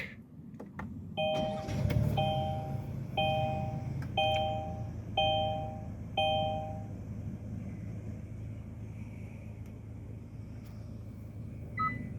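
A 2023 Kia Sorento SX Prestige starts by push button, with a brief crank and the engine settling into a low steady idle inside the cabin while a repeating chime dings about six times.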